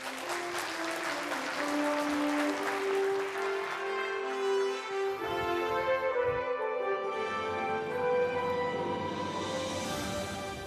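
An audience at a policy forum applauds to welcome the deputy prime minister. The broad clapping is strongest at first and then thins out under sustained music that carries on to the end.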